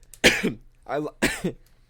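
Two or three short, rough coughs close to the mic, spaced about a second apart, with a throat-clearing quality.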